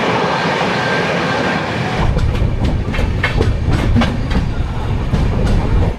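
A passenger train running through India toward a station in Bihar gives a steady, loud rumble and roar, then a rhythmic clickety-clack of wheels over rail joints sets in about two seconds later and repeats evenly, close by with no talk.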